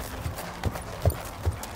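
A horse walks along a forest road, its hooves striking four distinct, evenly spaced clip-clops that sound close and clear with nothing else over them.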